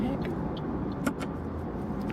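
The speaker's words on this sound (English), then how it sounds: "Welcome to Austin, Texas traffic." Steady road traffic in Austin, Texas, near the 281 on-ramps: a continuous broadband rumble of passing cars heard from inside a vehicle, with a few light clicks and knocks over the drone.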